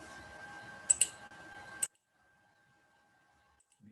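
A computer keyboard key is pressed during a numerical methods calculation, giving a few sharp clicks over a low room hum before the sound cuts to near silence.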